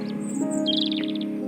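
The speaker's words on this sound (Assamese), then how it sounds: "চৰাই মাত" A small bird gives a short call, then a quick descending trill of chirps, bright and fairly close over a steady low droning background.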